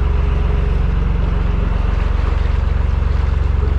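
Narrowboat diesel engine revving while cruising along the canal from Autherley to Gailey, a close, steady low chugging pulse with a constant rhythmic throb and no voices.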